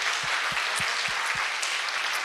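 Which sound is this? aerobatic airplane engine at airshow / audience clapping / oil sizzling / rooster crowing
audience clapping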